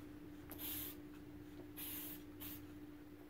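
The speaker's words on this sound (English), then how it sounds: "spray the bead of the tire on both sides" Three short hissing bursts of spray from a can aimed at the bead of a Segway scooter tire, faint and separated by brief pauses over a low steady hum.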